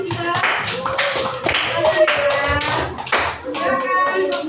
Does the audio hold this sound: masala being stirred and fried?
no